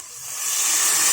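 Tamarind juice poured into a hot tempering for flattened-rice tamarind pulihora gives a short, rising hiss and sizzle, close and steady, with no talk.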